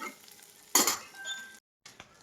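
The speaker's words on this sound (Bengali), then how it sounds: "মাছটার আগে আগে ফড়ফড়া করে ভাজছি তারপর পেঁয়াজটি দিচ্ছি" Fish frying in a pan with onions added, a steady sizzle broken by a loud burst as food hits the hot oil, a clink of utensils, then a brief pause before the frying resumes.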